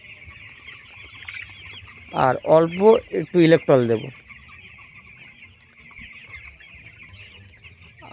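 Twelve-day-old poultry chicks on a farm give a steady, high chirping chorus throughout, while a person speaks a brief sentence in the middle.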